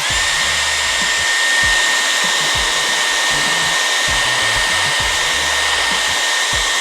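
Dyson Airwrap hair styler blowing air in a steady, loud, continuous whoosh with a constant high whine, close by and running without pause, with no talking.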